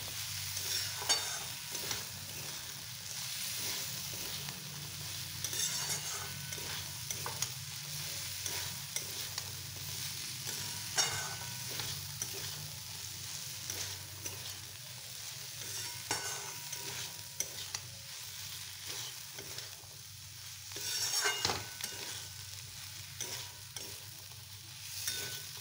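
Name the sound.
sautéing potatoes and peas for ghugni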